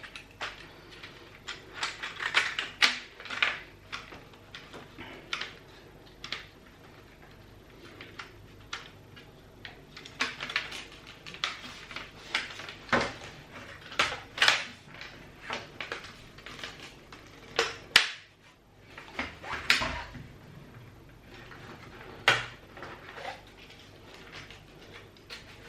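An Amiga keyboard is handled and pressed back into its plastic case, giving irregular clicks, taps and clattering knocks scattered over a long stretch, close and fairly quiet with short pauses.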